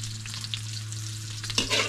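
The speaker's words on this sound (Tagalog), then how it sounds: "Ipiprito ko lang na madali." Mutton frying quickly in a pan for biryani, cooked outdoors on a farm: soft, steady sizzle under a constant low hum, with a brief louder stirring scrape near the end and no talking.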